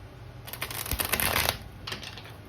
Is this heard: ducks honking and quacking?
no